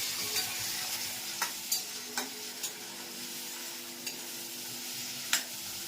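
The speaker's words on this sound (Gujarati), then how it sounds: "સરસ મજાનો વઘાર થઈ ગયો છે" Continuous sizzle of hot oil as a spice tempering is made, with a steady hiss, punctuated by several sharp pops and spoon clicks scattered through.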